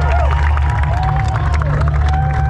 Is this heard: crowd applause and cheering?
yes